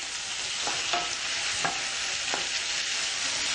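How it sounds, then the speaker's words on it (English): Bacon sizzles steadily in a frying pan while a utensil stirs it, a few soft scraping strokes sounding over the constant close frying hiss with no talking. "We're going to give the bacon over here in the frying pan just a quick stir."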